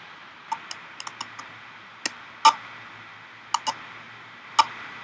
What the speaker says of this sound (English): Another technique I use is just tapping the keyboard sometimes.